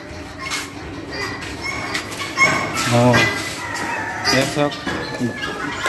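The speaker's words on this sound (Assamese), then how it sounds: "এইবিলাক বটা চৰাই বটা চৰাই" Quail calling and clucking in short repeated bursts, close by at a mini zoo in Goalpara, Assam, mixed with a busy background of chatter and ambient noise.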